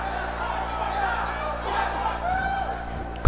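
A wrestling event crowd cheers and chatters in a continuous roar, with a commentator talking over it and a brief sharp thump near the end.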